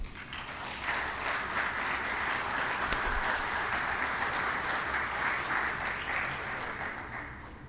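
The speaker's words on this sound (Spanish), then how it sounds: "Un aplauso para ellos." Audience at a colloquium on Argentine democracy applauding two panelists, a sustained, even round of clapping from a sizable crowd heard at moderate distance without speech.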